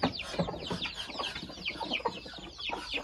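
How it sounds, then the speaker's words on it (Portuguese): Roughly thirty hens, with a few ducks, cluck busily in a simple farm coop, a dense overlapping chorus of near and mid-distance calls with no talking. "Tem mais ou menos 30 galinhas e alguns patos"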